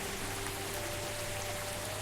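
Steady rain falls in the Cthulhu adventure game Gibbous, a soft, even hiss with a faint low hum beneath, continuous and alone with no talk.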